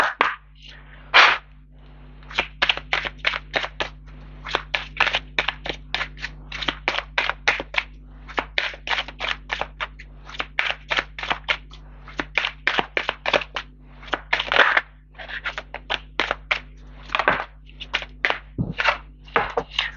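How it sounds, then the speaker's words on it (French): Petit Lenormand oracle cards being cut and shuffled at close range: rapid, crisp riffling flicks and snaps in irregular bursts over a low steady hum, no voices. "Je vais prendre le petit Lenormand avec une coupe et 3 cartes."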